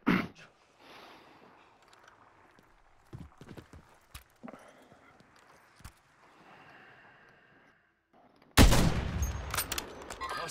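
Gunfire in a Call of Duty match: scattered distant shots and small clicks, then a sudden loud, dense burst of close automatic fire that keeps going to the end.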